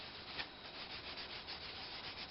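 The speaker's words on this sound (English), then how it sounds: "So I've just sanded them all by hand like this, and this is my final sanding here." Soft, steady rubbing of 400-grit sandpaper against a turned wooden box by hand, a quiet continuous scratchy hiss with gentle back-and-forth strokes, close by.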